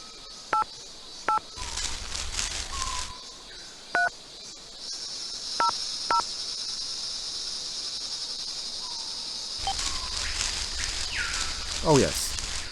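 Phone dialing in the sci-fi adventure game The Space Bar: a handful of crisp keypad tones spaced a second or two apart over a steady electronic hum, followed by chirpy game sounds, with a voice talking.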